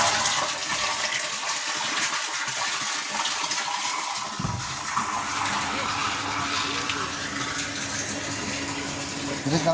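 Water gushes steadily from a farm pipe or outlet at a chilli pepper plot, a continuous broadband rush that stays loud throughout, with someone talking faintly underneath.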